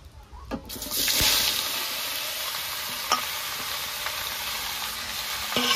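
Chopped bottle gourd pieces hit a hot pan and break into a steady, loud sizzle that carries on alone, with a few sharp clinks of a utensil against the pan.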